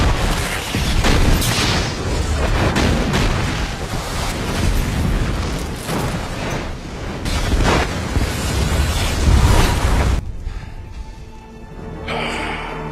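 A vampire film battle scene where a wounded fighter blows himself up among troops: ten seconds of dense, loud rumbling blasts and roaring destruction, dropping abruptly to a quieter, hollow tail.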